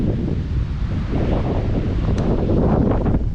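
Wind gusting across an open golf course, a steady loud rush buffeting the microphone for the whole stretch, with no voices over it.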